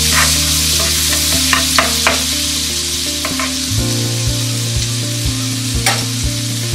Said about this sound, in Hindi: बटर को अच्छे से मेल्ट होने देते हैं।